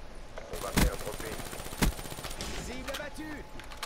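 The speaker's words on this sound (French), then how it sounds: "c'est une mitraillette, c'est pas un fusil d'assaut" Submachine gun fire in Call of Duty Black Ops 3, with two sharp loud bursts standing out over a dense, busy mix of game effects and background noise.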